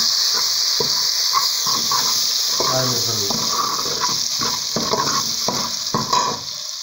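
Garlic with salt frying in a pan for a tilapia moqueca, giving a steady close sizzle throughout with repeated stirring scrapes and clicks, and no talk.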